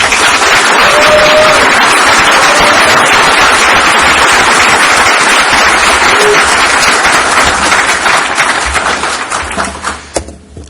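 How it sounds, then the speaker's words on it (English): Loud, sustained applause fills the hall at a Perl programming conference, with a few voices rising over the crowd before the clapping thins out and dies away. "So I'd like to hear a round of applause for all of our sponsors."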